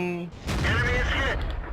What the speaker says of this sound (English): I start shooting at the T-34 where he has his little... fuel tanks